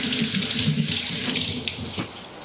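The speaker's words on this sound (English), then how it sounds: "now you have 1 cup of soy milk. And you're going to pour that into here" A cup of soy milk poured into a bowl for chocolate avocado pudding, a steady close liquid splashing and trickling that fades out near the end.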